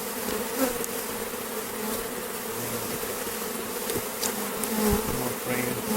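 Honeybees swarm around an open hive as frames are shaken and smoked during inspection of a super colony, their dense, close buzzing holding steady throughout with faint knocks from handling.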